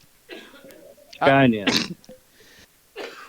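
A loud, explosive cough bursts out between stretches of nearby speech, harsh and brief, followed by more talking.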